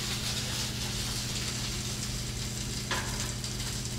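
An omelet cooking in a skillet gives a steady, even sizzle with a constant low hum beneath and a single faint tap near the end, no voices.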